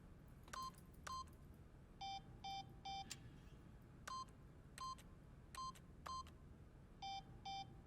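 Keypad tones from repeatedly pressing 3 in The Stanley Parable: Ultra Deluxe, a dozen or so crisp, evenly clipped beeps in quick uneven clusters over a faint background hum.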